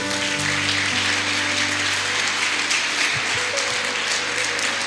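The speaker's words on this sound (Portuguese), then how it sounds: "Você pode dar um aplauso para Jesus aí?" A church congregation applauds during a sermon, with a steady wash of many hands clapping at once under a low hum from the hall.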